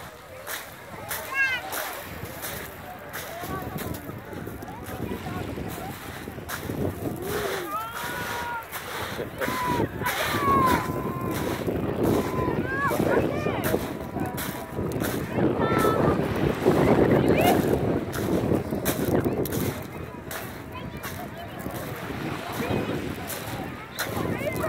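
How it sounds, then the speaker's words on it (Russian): Sea waves wash steadily onto Konyaalti beach in Antalya, Turkey, with wind buffeting the microphone and a continuous rushing roar that swells midway, while people talk throughout. "Ну, сегодня море какое."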